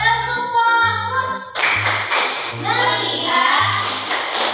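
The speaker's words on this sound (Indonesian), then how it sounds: "Oke, tepuk tangan semuanya." A classroom of students clapping in time, bursts of patterned rhythmic claps mixed with a teacher's voice and children chanting, near and fairly loud.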